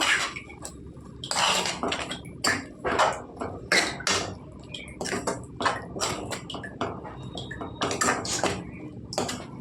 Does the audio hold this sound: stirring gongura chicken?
yes